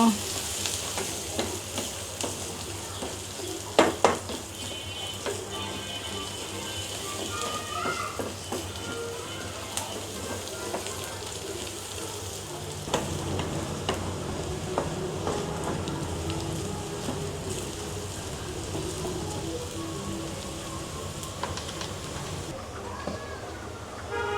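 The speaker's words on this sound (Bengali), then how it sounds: "এই যে পেঁয়াজ কুচিগুলো একদম মচমচ হবে বেরেস্তাও না বেরেস্তা থেকে একটু কম ভাজা হবে" Chopped onions deep-frying toward crisp in a pan for a beef curry, a continuous bubbling sizzle with frequent scraping stirs and a few sharper clatters, lasting around twenty-four seconds with no voice over it.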